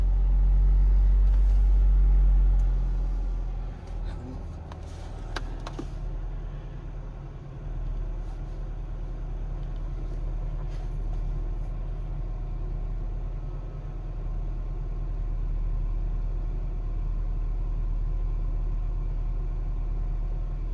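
A 1998 Acura Integra engine idling after an alternator replacement gives a steady low rumble close by that holds even for the whole stretch, after a louder burst at the start, with no talking.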